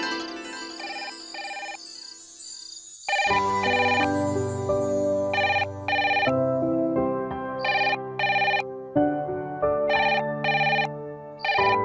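A telephone rings with a melodic, tonal ringtone in a Hindi TV serial scene, its repeated bright bursts and pauses playing clearly and alone for several seconds.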